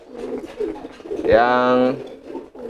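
A pigeon gives a single drawn-out, throaty call lasting about half a second, close by, amid soft background voices and murmuring.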